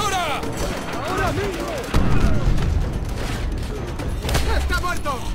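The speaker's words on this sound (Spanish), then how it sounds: "¡Una ametralladora! ¡Ahora mismo!" Machine gun fire in the video game Call of Duty: World at War, rapid bursts of gunfire and booms under shouting soldiers' voices throughout.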